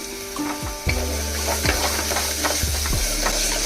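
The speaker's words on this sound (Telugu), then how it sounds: "ఈ అల్లం వెల్లుల్లిపాయ పేస్ట్ కూడా పచ్చివాసన పోయే వరకు ఫ్రై చేసుకోవాలి." Ginger garlic paste frying in oil in a pan, a loud continuous sizzle broken by repeated scraping stirs from a spoon, close up and without speech.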